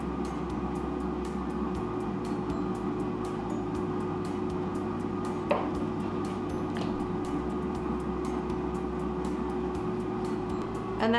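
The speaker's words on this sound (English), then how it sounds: "that sound you hear is the air fryer" An air fryer runs steadily throughout while plant-based weight-loss meals are cooked, a constant low hum and fan whir holding level under a faint kitchen background, with one brief click partway through.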